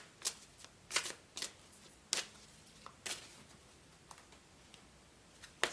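An oracle card deck is shuffled by hand in sharp, irregular riffles and snaps, close and crisp, with quiet pauses between the bursts.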